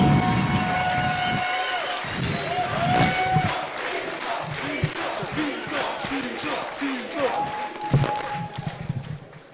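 A congress audience at a public security panel of a national political movement cheers and chants loudly, with a roaring crowd and shouted voices over scattered clapping that swells and fades.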